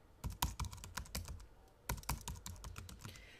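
Rapid, uneven keystrokes on a computer keyboard, close and crisp, clicking in two quick bursts separated by a short pause, with no voices.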